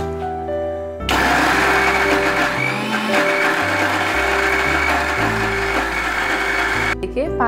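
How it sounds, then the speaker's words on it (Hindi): A mixer grinder whirs loudly as it blends spinach leaves into a paste, kicking in after a second of quiet and holding a steady motor roar with shifting pitch before stopping near the end. "अब मैं इस पालक के पत्तों को मिक्सी में ग्राइंड करूंगी।"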